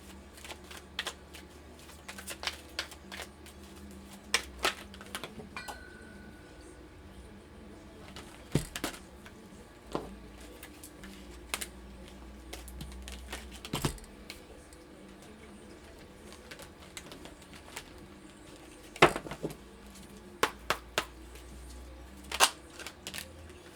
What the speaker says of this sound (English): I just want one card, which is why I keep shuffling.